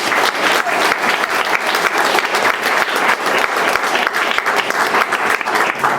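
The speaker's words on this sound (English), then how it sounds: "Give them another round of applause." A large crowd claps steadily and loudly throughout, a dense wash of applause with no pauses.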